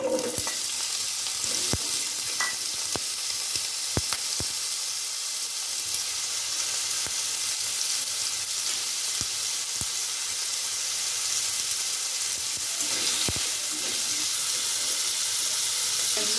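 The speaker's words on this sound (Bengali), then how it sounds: "আলুটা ভেজে তুলে নেব।" Potatoes frying in a pan for soybean kosha, a steady close sizzle running throughout with sharp clicks and scrapes of stirring scattered over it.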